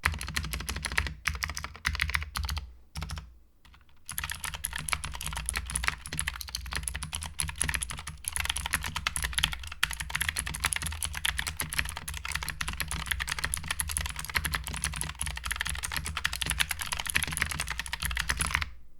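Steady, continuous typing on a mechanical gaming keyboard, keystrokes clacking in a fast, dense rhythm with a brief pause early on, close and clear with no talking.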